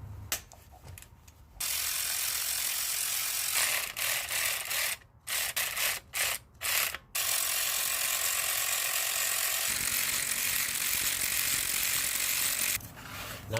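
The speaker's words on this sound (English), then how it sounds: "ratchet, and I'm using a wobble extension. Just gonna break that loose." Ratchet with a wobble extension breaking loose and spinning out a bolt during clutch work on a 2018 Subaru WRX, with long stretches of close, steady clicking broken by a few quick short bursts.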